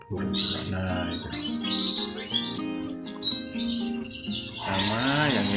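Canaries chirp and tweet in quick bursts close by, with a loud call rising near the end.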